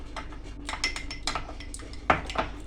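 Ingredients stirred in a metal cooking pot while preparing duck stuffed with freekeh, quick clinking scrapes of a spoon against the pot in an irregular rhythm, close and moderately loud.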